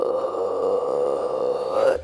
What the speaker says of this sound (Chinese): 声音由高到低打个哈欠